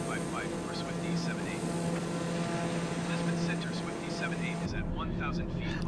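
Airliner taking off in Microsoft Flight Simulator: a steady, loud engine drone with a constant hum throughout, under intermittent talk, with a slight shift in tone near the end.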